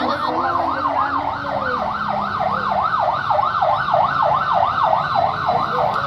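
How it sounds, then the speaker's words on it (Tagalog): An ambulance siren at a fire in Paltok, Quezon City wails in a rapid, steady up-and-down cycle, loud and close, with traffic rumbling underneath. "Ala, may ambulansya"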